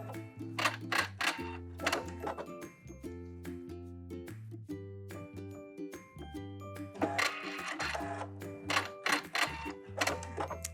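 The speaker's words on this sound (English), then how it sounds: "So just stitch over them and cut." Sewing machine stitching across fabric straps on a wrap dress bodice, a quiet, rapid mechanical whirring in short bursts and pauses, with a steady low motor hum underneath.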